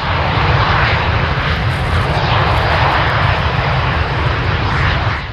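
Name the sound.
L-39 light jet attack aircraft taking off at an air show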